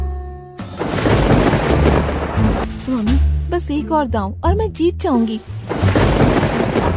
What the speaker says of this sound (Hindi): स्वामी, ये बिना मौसम की गरजती हुई बारिश हमें क्या संकेत देती है?